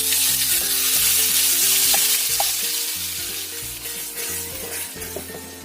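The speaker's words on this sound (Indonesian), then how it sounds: "Kita tumis bumbu yang sudah kita haluskan tadi." Ground spice paste sautéing in hot oil in a pan: loud, close, continuous sizzling with occasional stirring scrapes, fading slightly toward the end, no voices.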